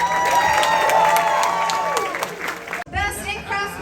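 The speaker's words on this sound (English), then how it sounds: "One more round of applause." Audience at a costume contest applauding and cheering, a dense wash of clapping with whoops for a few seconds, then a speaking voice takes over near the end.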